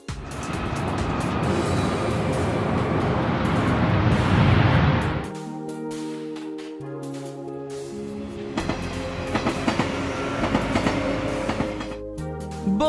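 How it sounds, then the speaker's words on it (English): A bullet train runs in an animated children's cartoon about fire station vehicles, giving a loud, steady rush of rail noise with rhythmic rumbling that drops away midway, then returns with musical tones layered over it. "Bullet train."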